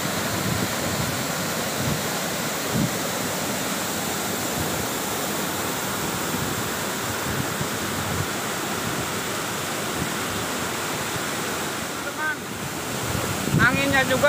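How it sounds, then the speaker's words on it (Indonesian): Strong morning wind roars at an abandoned waterfall in a village, with broadband rushing noise like surf sustained throughout, loud and close to the microphone, with a faint rustle near the end. "anginnya juga sangat gede sekali ya, apalagi masih di pagi hari ini ya"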